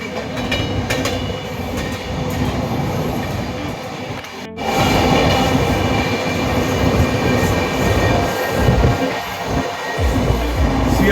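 Howrah–Kalka Netaji Express running at speed, a loud steady rumble of wheels and coaches on the rails with rhythmic clatter, a brief dropout midway, then continuing close and heavy without talk.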